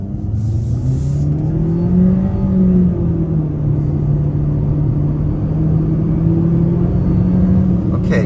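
A 2023 Mitsubishi Eclipse Cross SEL Touring pulls away in first gear, its engine note rising steadily and then easing into a sustained drone, loud and close from inside the cabin, with no talk over it.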